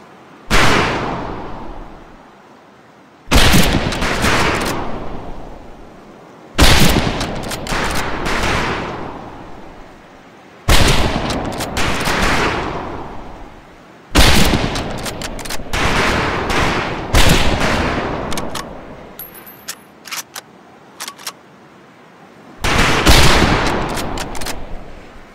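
Rifles fire in volleys on an outdoor shooting range: about seven loud bursts of rapid, overlapping shots, each lasting a second or two and separated by short pauses, with a few scattered single shots between them.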